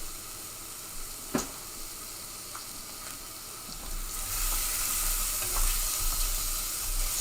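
Garlic and onions fry in a pan for chicken adobo, a soft hiss that swells into a louder, fuller sizzle halfway through, with a few isolated utensil clinks early on; close and moderate in level, no talking.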